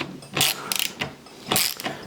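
A hand ratchet loosening long bolts on a Stihl 362CM chainsaw, giving a few close, sharp bursts of clicking, with brief quiet gaps between the strokes.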